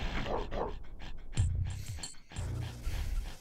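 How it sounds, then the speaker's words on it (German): Dogs from the video game Oddworld: Abe's Oddysee, a short burst of panting, growling canine sounds over game noise, fairly close and loud. "ich habe nicht gedacht, dass die Hunde so früh kommen"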